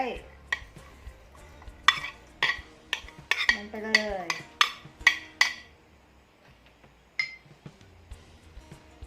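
Pork larb salad being tossed by hand with shallots, spring onions and chopped cilantro, giving a run of sharp utensil clinks and soft stirring scrapes against the bowl, close and fairly loud, with a brief voice speaking between.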